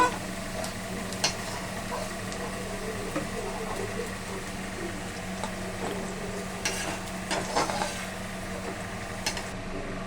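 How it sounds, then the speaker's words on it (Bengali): Two fish frying in hot oil in a pan, a steady close sizzle and crackle with occasional stirring and light utensil taps over a low background hum. "এবার ওই তেলেতে দুটো মাছ ভেজে নিচ্ছি।"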